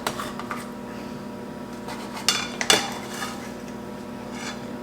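A utensil scrapes and clinks against a casserole dish while a chunk of keto taco casserole is scooped out, a few sharp metallic taps over a faint steady hum.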